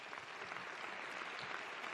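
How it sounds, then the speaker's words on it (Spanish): An audience at a startup round-table on sales applauds the panelists, a steady wash of many hands clapping, moderately distant and even throughout. "un aplauso por favor para"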